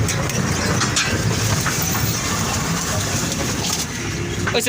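A train rumbles along with a steady, continuous roar and faint rhythmic clatter from inside the carriage, loud and unbroken throughout.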